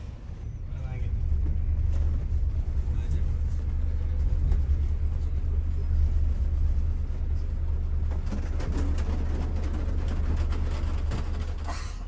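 A Gunung Harta intercity bus drives away from the Pulau Gebang terminal, heard from inside as a steady low engine rumble and road noise that holds evenly throughout, with faint clatter near the end.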